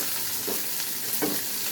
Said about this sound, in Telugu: ఇప్పుడు తాలింపులు వేసేద్దాం